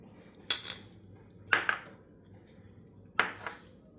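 A metal kadhai set down on a gas stove before roasting dry fruits: three distinct metallic clanks with brief clinks, spaced apart, close and fairly loud over quiet kitchen background.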